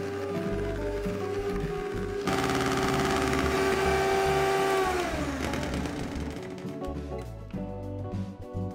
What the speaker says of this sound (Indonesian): jadi cukup di mixer sekitar 3 sampai dengan 4 menit saja juga sudah bisa kental berjejak seperti ini